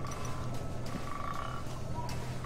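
Repeated croaking from a frog in the game Suicide Guy: The Lost Dreams, a few short croaks spaced out over a dense, hissy game background, moderately near but not loud.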